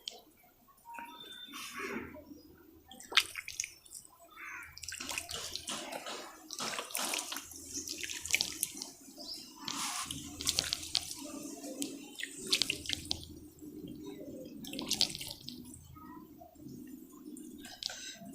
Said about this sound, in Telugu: వాటర్ చేద్దాం.